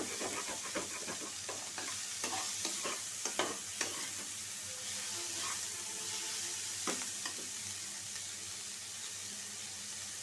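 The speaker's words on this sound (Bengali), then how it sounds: "পেঁয়াজটা ভাজা হোক।" Sliced onions and green chillies fry in hot oil for a Bengali katla fish bhuna, giving a steady sizzle broken by repeated stirring scrapes and clatters close by, with no talking.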